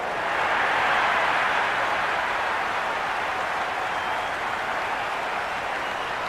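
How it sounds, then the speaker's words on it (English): A huge cricket stadium crowd at an India vs South Africa T20 match roars and cheers continuously, a dense wash of noise that swells early and then holds steady. "Will you listen to that crowd? They are loving this."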